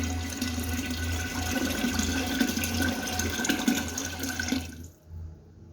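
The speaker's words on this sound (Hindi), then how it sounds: "थोड़ा सा पानी और ऐड करेंगे।" A steady stream of water pours and splashes into a pot for several seconds, then stops abruptly, leaving near silence.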